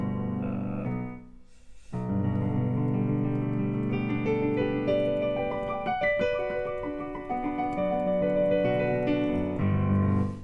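A piano plays a descending run with the pedal lifted, each note sounding clean and separate rather than blurring together.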